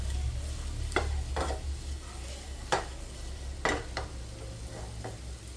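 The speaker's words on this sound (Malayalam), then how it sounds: "ഇങ്ങനെ ഒന്ന് ഇളക്കി കൊടുത്താൽ മതി അപ്പോൾ എല്ലാ ഭാഗത്തേക്കും ആയിക്കോളും" A utensil stirs a banana dish in a pan over a low flame, with a faint steady sizzle underneath and a handful of sharp scraping strokes spaced about a second apart.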